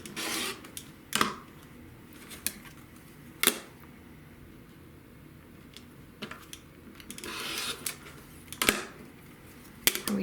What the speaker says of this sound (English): We take this piece and we cut it with the right sides down.